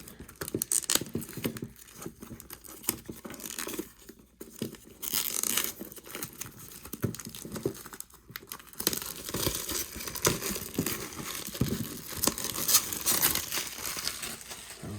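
Plastic packaging around a Mythic Legions Four Horsemen Krampus 2021 holiday edition action figure crinkles and crackles up close, in continuous irregular bursts with brief pauses.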